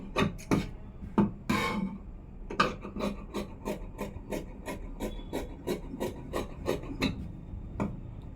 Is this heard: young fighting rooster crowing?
no